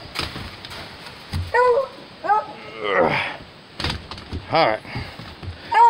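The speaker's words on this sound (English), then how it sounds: "Who's good dogs? We're good dogs" Playful beagles whimper, yip and give short barks in bursts at close range. A person's voice comes in briefly between the dog sounds.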